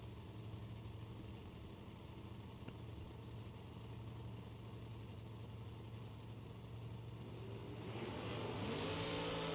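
A footbrake drag racing car engine idling in a low, steady rumble on the strip, then revving up louder near the end.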